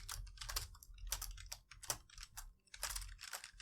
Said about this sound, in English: if I type some code